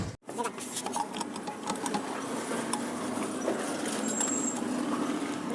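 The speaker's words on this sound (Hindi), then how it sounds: "जो ड्राइव बेल्ट है ना पूरे तरीके से ये लूज हो चुका, इसके वजह से है ना इस तरीके से साउंड कर रहा है" Loose drive belt on the clutch side of a Honda/Hero Maestro Edge 125 scooter, its cover opened, giving a steady rattling, whirring engine-side noise that runs continuously and fairly loud, with a voice talking over it.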